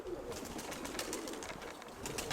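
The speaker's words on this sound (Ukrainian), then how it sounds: "багато голубів, тут живуть у мене" Several domestic pigeons cooing together in a yard where many of them live, a steady soft murmur of calls with no talk over it.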